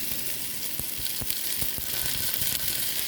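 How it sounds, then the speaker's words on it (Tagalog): Sliced okra sizzles loudly in a hot pan during stir-frying, a dense continuous crackle and hiss close up with a few sharper pops, no voices. "Then pagka human na ilunod na to ang okra nga atong gihiwa."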